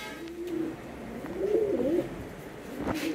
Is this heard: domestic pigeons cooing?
yes